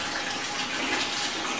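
Wash water drains from a batch of homemade biodiesel in a steady, close splashing flow, like a running tap into a tub, with no voices.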